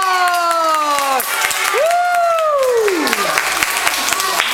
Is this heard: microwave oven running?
no